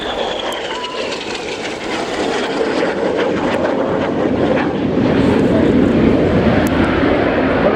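Red Arrows jets of the synchro pair roar past at an air show in Fairford, a loud, broad rushing jet noise that swells steadily and stays heavy throughout, with faint crowd sounds underneath.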